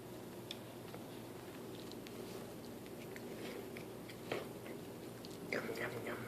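A cat crunches on Cheerios cereal up close, with faint, irregular crunching and chewing clicks over a quiet room, louder bites near the end.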